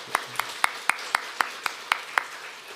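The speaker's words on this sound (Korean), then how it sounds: "우리 박수 부탁드립니다." A church congregation claps together in a steady, even rhythm, about four sharp claps per second, moderately close and with no talking.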